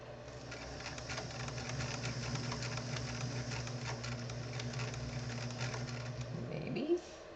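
A home sewing machine stitches a zigzag with a steady whirring hum for several seconds, then winds down and stops with a small clunk, close by.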